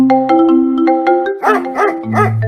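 A voice imitates a dog, giving several short, loud barks and yips in quick succession, close up.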